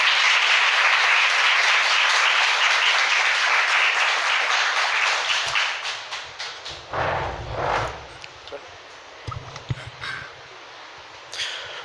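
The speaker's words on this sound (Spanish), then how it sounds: "les pido para finalizar, por favor, que le puedan brindar un fuerte aplauso al doctor David" An audience at an education institute lecture claps for the speaking doctor. Dense applause holds steady for several seconds, then thins into scattered claps and fades to quiet.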